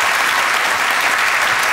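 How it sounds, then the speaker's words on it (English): Dense, steady applause from an audience, loud and continuous for a couple of seconds with no talking over it. "A round of applause, please, for the Matt Lucas players."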